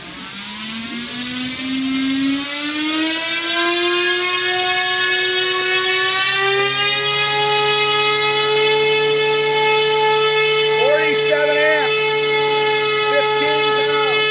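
A Rimfire 1.6 electric motor spins a three-bladed propeller in an electric aircraft propulsion setup, a harmonic whine rising steadily in pitch as it spools up, then holding a loud, sustained tone with a brief wobble.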